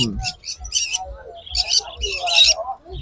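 Exotic birds in cages at a pet bird market in Kolkata chirp and tweet in quick, high bursts that overlap one another, close and fairly loud against a quiet background.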